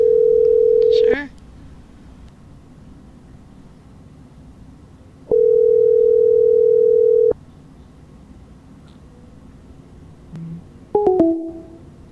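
A telephone line tone after a caller hangs up on a live call-in show: two steady, even tones separated by a quiet gap, then a few brief chirps near the end, over low background hiss.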